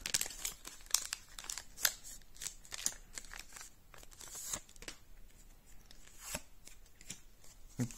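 Pokémon booster pack being opened by hand and the online code card pulled out, a run of crisp crinkles, rips and card-stock flicks close up, quiet and irregular with no talking.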